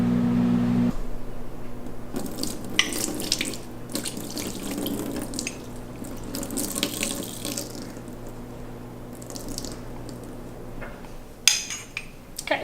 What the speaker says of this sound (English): I'll just rinse it off with some cold water